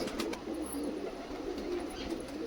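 Pakistani pigeons in a Kolkata sale loft coo softly and continuously, a low murmuring close by with faint chirps over steady room noise.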